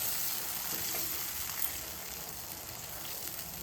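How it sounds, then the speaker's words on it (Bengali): A spice paste for a chana dal and paneer dish fries in a pan on an outdoor veranda, giving a steady, even sizzle with a faint stirring rustle throughout and no voices. "এর মধ্যে এবার এই পেস্টটা আমি দিয়ে ভালো মতো মশলাটা কষিয়ে নেব"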